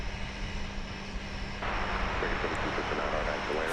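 A 2000-built Airbus A319 on a flight from DFW to San Francisco sends out a steady engine rumble that steps up abruptly and grows louder partway through.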